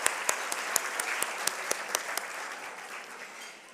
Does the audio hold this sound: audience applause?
yes